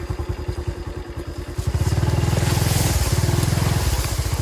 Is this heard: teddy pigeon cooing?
no